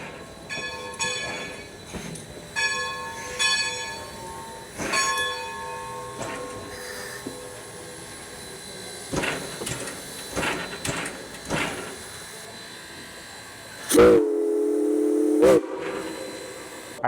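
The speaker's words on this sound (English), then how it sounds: "It's great to see the train." A steam train pulls into a snowy theme-park station, with chuffing and clanks giving way near the end to a loud, sustained steam whistle blast.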